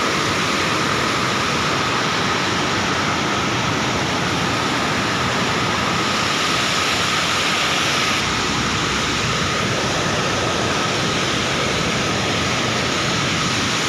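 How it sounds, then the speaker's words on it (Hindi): Swollen Beas river near Kullu after a cloudburst, roaring as a loud, steady broadband rush of floodwater that holds unbroken for the whole stretch with no voices over it. "तभी इतना ज़्यादा पानी बढ़ गया इस रिवर में"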